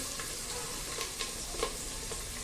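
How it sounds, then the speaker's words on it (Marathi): Onion and coriander with turmeric sautéing in a pan for stuffed brinjal, a steady frying sizzle with a few soft stirring scrapes, close and fairly quiet, no talking. "हे सगळं छान याच्यामध्ये परतून घ्यायचंय आपल्याला. हे सगळं याच्यामध्ये मी परतून घेते."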